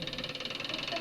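A repaired washing machine fitted with a new motor runs with a fast, even mechanical pulsing hum, a close and steady rhythmic whir throughout the short stretch.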